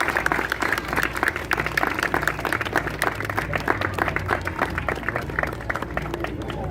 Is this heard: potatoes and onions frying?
no